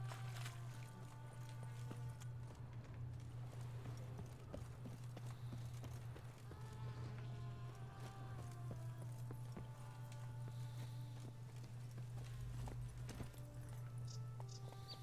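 Hooves clip-clop in a quick, even rhythm as the horse Roach runs in The Witcher video game, heard fairly close over a steady low hum and a soft musical bed.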